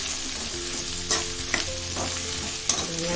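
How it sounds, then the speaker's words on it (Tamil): Onions, tomato and green chili sauté in a pan for paneer gravy, giving a steady, close sizzle throughout with a few sharp stirring scrapes and clinks along the way; no one speaks. "வெங்காயம் நல்லா வதக்கி போட்டுக்கலாம்."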